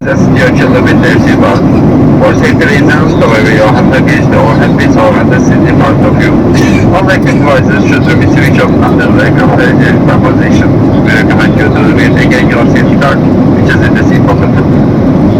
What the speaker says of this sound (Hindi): अब हम दुबई एयरपोर्ट पे लैंड हो चुके हैं।